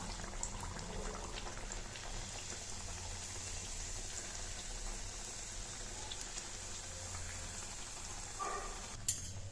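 Beetroot adhirasam frying in hot oil, a steady bubbling sizzle that runs evenly throughout with a brief clink near the end.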